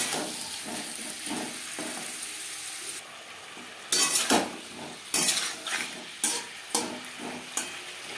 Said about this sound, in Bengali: আলুর সাথে মূলো বেশ ভালো করে মিক্স করে দেবো।